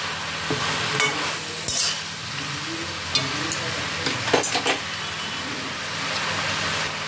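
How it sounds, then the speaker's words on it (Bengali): Green chillies being stirred into a spinach (shish palong) dish in a hot pan, with a steady frying sizzle and occasional spatula scrapes and clinks against the pan. "এবার এর মধ্যে দিয়ে দিচ্ছি কটা চেরা কাঁচা লঙ্কা, সব কিছুকে দিয়ে আরেকবার ভালো করে মিশিয়ে নিচ্ছি"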